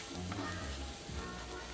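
Shrimp and baby bella mushrooms crackle and sizzle in a hot pan, a steady dense frying hiss throughout with no talking.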